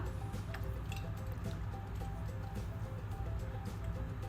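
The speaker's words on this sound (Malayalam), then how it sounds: "ഇനി കൈ വെച്ചിട്ട് നല്ലോണം ഒന്ന് തിരുമ്പി യോജിപ്പിച്ച് കൊടുക്കാം" Beef is squeezed and rubbed by hand in a steel cooker, giving quiet, wet squishing and squelching sounds in an irregular rhythm, close up with no voices.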